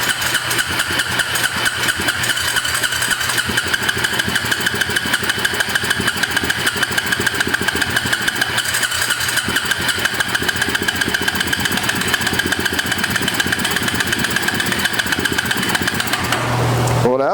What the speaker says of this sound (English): I revved it up and it quit.